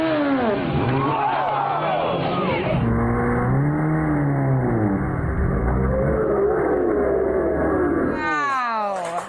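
A high-powered sports bike revs loud and close, its engine note climbing and falling in sweeping waves, then a harsh, brief crash-like burst closes the sequence with no speech over it.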